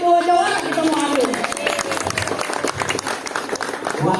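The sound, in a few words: applause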